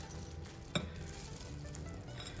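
Peanuts sizzle in a hot pan for a Vietnamese warm beef noodle salad, a constant close frying hiss with one sharp tap or clatter early on, no voices.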